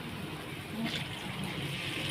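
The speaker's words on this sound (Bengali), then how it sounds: "কষিয়ে আমি জলটা দিয়ে দিলাম" Water poured into a pan of spicy small-fish curry, a steady moderate gushing splash lasting about two seconds at close range.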